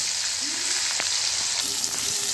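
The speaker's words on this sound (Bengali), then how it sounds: "এবার আমি আলুগুলো একটু ভেজে নেব অল্প করে" Potatoes coated in salt and turmeric fry in a pan, a dense, loud, continuous sizzle close by, with a few faint stirring scrapes and no talk.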